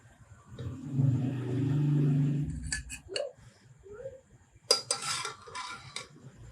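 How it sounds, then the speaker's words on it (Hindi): Chana pulao is served onto a dish: a spoon scrapes through the rice in a pot, then clinks and taps against the pot and plate several times, close and moderately loud. "चलें अब इसको डिश आउट करते हैं।"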